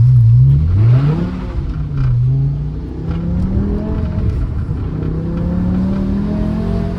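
A BMW E60 M5 engine in M mode revving hard and loud inside the car, pitch climbing in sweeping rises through the gears, with a steady sustained drone afterward on a rainy drive.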